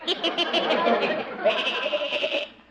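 A goat gives a string of shaky, wavering bleats up close, each rising and falling quickly, the calls carrying on steadily before they trail off at the end.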